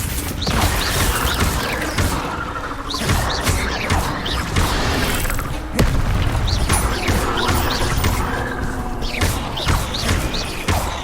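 Fire spells cast again and again in Hogwarts Legacy, a loud busy run of booming bursts and thuds over the game's constant rumbling background, with no talk.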